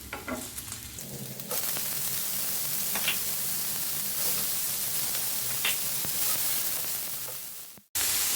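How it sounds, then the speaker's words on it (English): Vegetables with chopped ginger and garlic stir-fry in hot oil, a loud steady sizzle with occasional scraping stirs that cuts off briefly near the end before resuming. "add another teaspoon of oil and add the chopped ginger and garlic. Add the veggies."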